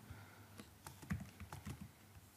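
Quiet typing on a computer keyboard, a short irregular burst of close, soft key clicks with gaps between them and no voice.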